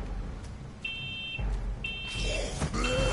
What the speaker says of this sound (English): There's like a smoke alarm going off.